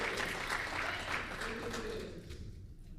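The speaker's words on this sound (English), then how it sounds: "I'm hearing thunderous applause in my ear" Faint applause from a legislative chamber, a soft continuous patter of clapping that fades toward the end.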